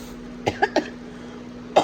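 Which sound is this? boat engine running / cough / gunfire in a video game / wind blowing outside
cough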